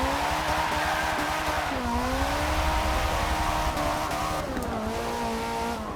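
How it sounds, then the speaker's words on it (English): A car fitted with a Ferrari engine in Forza 6 revs and accelerates in-game, a loud, continuous engine tone rising and dipping through gear changes, with tires squealing. "It just sounds so weird having a Ferrari engine in this thing."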